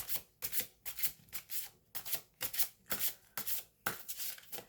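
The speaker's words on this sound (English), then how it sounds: "It's hard for me to shuffle because it's so big, and my hand doesn't quite fit to shuffle it." An oversized tarot deck being shuffled by hand, with repeated quick riffling, rubbing card sounds arriving in short bursts about twice a second, steady and close, with no voices.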